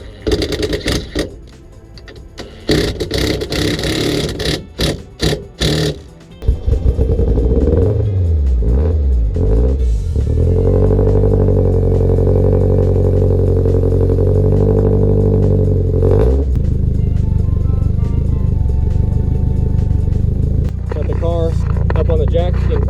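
A Nissan S14 fitted with a KAAZ 1.5-way limited-slip differential runs in first gear while jacked up, starting after some clattering handling noises into a loud, steady engine drone with rising and falling pitch, then easing off near the end.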